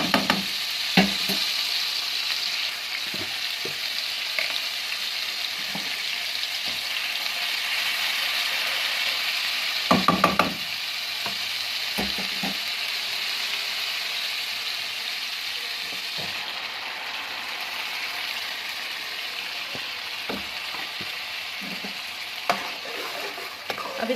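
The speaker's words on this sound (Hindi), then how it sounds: "इसको हल्का सा फ्राई करके तो इसमें हम प्याज और टमाटर वाला पेस्ट ऐड कर देंगे" Ginger garlic paste with onion and tomato paste frying in hot oil for an aloo matar curry, a steady loud sizzle with scraping stir strokes now and then, no talk.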